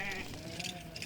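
Sheep bleat on a farm, a wavering bleat up close at the start followed by more bleating mixed with background farm noise.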